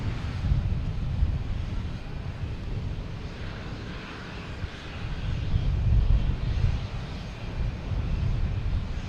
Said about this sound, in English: we have a JetBlue A220 heading to Pittsburgh, taking off on 22 right